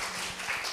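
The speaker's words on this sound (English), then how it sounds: "Let's give it a round of applause, all right." Brief burst of audience applause at a live debate, a dense steady patter of many hands clapping that fills the short moment without any talk.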